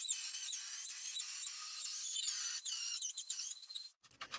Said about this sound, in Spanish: con el router y una broca copiadora voy quitando el excedente de MDF